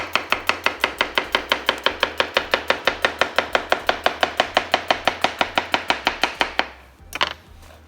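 Knife rapidly slicing a cucumber on a cutting board, a fast, evenly spaced run of about thirty crisp chops close by, stopping abruptly before a brief scrape at the end.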